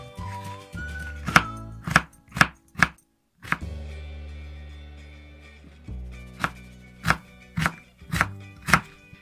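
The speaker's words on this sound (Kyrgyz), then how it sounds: "Картошкабызды кубик формасында кылып, майдалап тура алабыз" A knife cuts potatoes into cubes on a board for manty filling, giving a series of sharp, close chopping knocks in uneven bursts over soft tonal background music.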